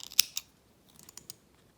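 Scissors trim yarn ends after binding off knitting, a few sharp close snips, two at the start and fainter cuts later, with quiet in between.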